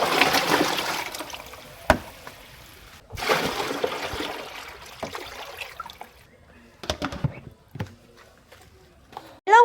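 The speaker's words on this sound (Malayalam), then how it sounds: "ഇനി നമുക്ക് വെള്ളം കോരി ഒഴിക്കാം." Water drawn by hand and poured into a bucket at home, several bursts of splashing and trickling separated by pauses, with clanks of the vessel and a few sharp knocks, close and fairly loud.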